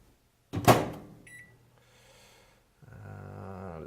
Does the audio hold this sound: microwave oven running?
yes